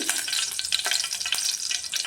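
Tempering of mustard seeds, chana dal, urad dal, green chillies and curry leaves crackling and spattering in hot oil in a pot, a close, steady stream of sharp pops and sizzle with no voices.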